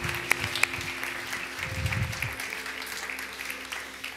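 A church congregation applauds together after a call to praise, a moderate, steady clatter of hands heard somewhat distantly, with a couple of sharp louder claps near the start and a low hum underneath.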